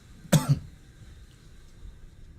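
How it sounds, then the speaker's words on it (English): A person coughs twice sharply while smoking, close and fairly loud, then quiet room noise follows. "I'm coughing and dying."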